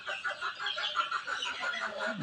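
Desi hens sitting on Chinese duck eggs cluck in quick, soft, continuous bursts close by, low and even in volume.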